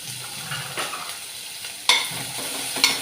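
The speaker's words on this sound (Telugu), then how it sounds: "ఇవి బ్రౌన్ కలర్ వచ్చినంత వరకు వేయించుకోవాలి." Dried red chillies with crushed ginger and garlic fry in hot oil for an aubergine and pea curry, giving a soft continuous sizzle broken by a few sharp scrapes and taps of a spatula stirring in the pan.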